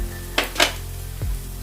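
Carrots, beans and slit green chillies for chicken fried rice are tossed in a hot pan over high flame, giving a soft sizzle, two sharp scraping stirs and a low clatter, close by and without talking.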